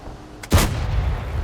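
A single tank cannon shot fired in World of Tanks from a leKpz M41 90mm light tank shooting HE shells, a sharp loud boom followed by a rumbling decay with steady engine drone underneath.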